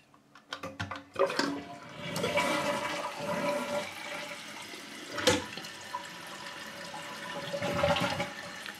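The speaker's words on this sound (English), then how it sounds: "now I'm going to demonstrate a full flush" Full flush of a toilet fitted with a dual flush conversion kit: a few clicks of the handle, then a loud, close rush of swirling water that drains and gives way to tank refilling with a gurgle.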